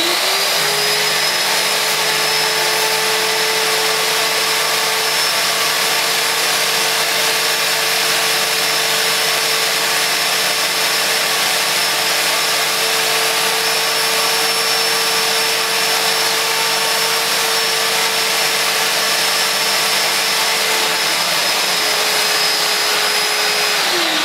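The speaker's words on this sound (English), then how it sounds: "I'll turn the pump on and the suction motor on as well" Numatic George GVE 370 wet/dry vacuum with its pump and suction motor running, a loud, steady whining drone that holds constant throughout, close by with no talking.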